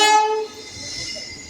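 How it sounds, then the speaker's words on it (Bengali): A train horn blasts loudly at a station in Nashik, India, holding a strong harmonic tone for about half a second before fading into the rumble of rail traffic and a busy platform. "আসবে ট্রেন।"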